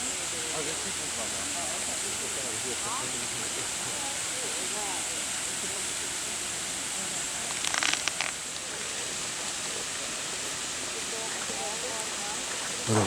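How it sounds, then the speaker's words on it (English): A waterfall beside the Ross Fountain in Butchart Gardens' sunken garden pours as a constant broad rushing wash, with people talking under it and a short burst of louder splashing or clatter partway through. "With a waterfall off to the side as well."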